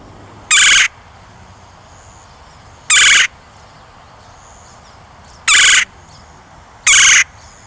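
Red-bellied woodpecker calls outdoors: four loud, separate bursts at steady intervals of about two seconds, each a short rolling call, heard alone over a quiet background.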